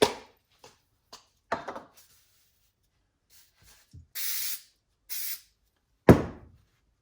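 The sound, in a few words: spray adhesive being sprayed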